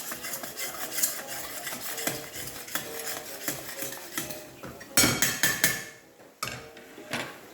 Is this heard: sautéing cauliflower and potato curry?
yes